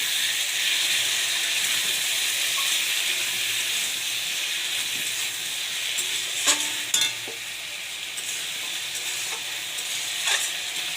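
Chopped tomatoes hit a pan of already fried onion, potato and taro, setting off a steady bright sizzle that runs the whole time, with a few clinks of a utensil partway through.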